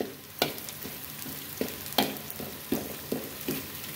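Garlic and lemongrass fry in a hot pan for a Vietnamese stir-fried apple snail dish, with a steady close sizzle broken by several sharp clinks and scrapes of a spatula stirring at an uneven rhythm.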